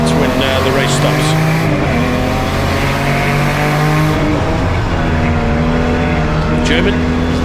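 Turbocharged BMW E36 race cars roar around the Kyalami circuit, engines droning loudly and continuously with shifting pitch as the pack races, under a commentator talking throughout.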